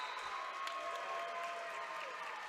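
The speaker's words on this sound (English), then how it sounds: "Now a little bit of a cheer, some clapping from the fans" Basketball fans in a college gym cheer and clap during a men's game between Washington and Lee and Lynchburg, a faint, distant and steady crowd murmur with scattered claps.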